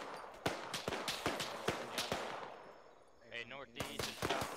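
Gunfire rings out during a military training exercise, a rapid run of sharp reports at mid distance followed by a brief lull with radio chatter, then more shots resuming.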